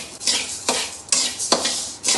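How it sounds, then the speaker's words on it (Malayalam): Ration rice dry-roasting in a pan while being stirred, with several rhythmic scraping strokes against the pan, close and clear with no talking. "നന്നായി പൊരിഞ്ഞ് വരുന്നുണ്ട്."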